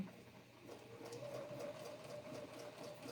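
A sewing machine runs quietly at a steady pace, stitching a ribbon candy pattern along a template, a soft continuous mechanical whir with no talking.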